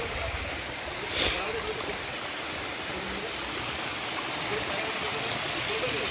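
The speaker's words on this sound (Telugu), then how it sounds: "ఇదే అన్నమాట జలపాతం" Constant broadband rush of a waterfall near Shanigaram or Medipally, steady and enveloping, with faint voices in the background.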